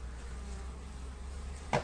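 Honeybees flying around a hive in winter, heard as a steady soft buzzing drone close by, with a brief sharper buzz as a bee passes near the end.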